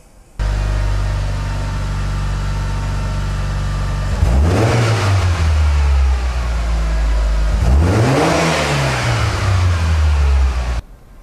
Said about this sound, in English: the idea is to have the engine rev crisply when we stab the accelerator throttle